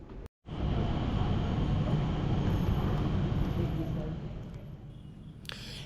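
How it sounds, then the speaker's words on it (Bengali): The Skytrain shuttle between terminals at Changi Airport rumbles steadily from inside the carriage. A low, continuous rolling roar holds close and even, then eases slightly near the end. "এখানে এক টার্মিনাল থেকে আরেক টার্মিনালে যেতে গেলে ট্রেনে করে যেতে হয়। এই ট্রেনের নাম স্কাই ট্রেন।"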